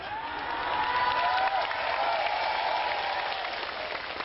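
Audience applause ripples through a crowd during an Islamic sermon at a gathering in Indonesia, a steady wash of many hands clapping at moderate distance that holds evenly for several seconds with no talk over it.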